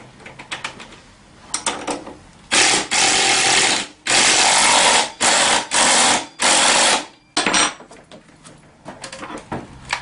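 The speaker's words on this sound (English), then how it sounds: "And your 14 millimeter, just ratchet it down good." Close, loud bursts of a ratchet driving a 14 mm bolt on a scooter's front wheel, rapid clicking strokes in repeated spurts separated by brief pauses.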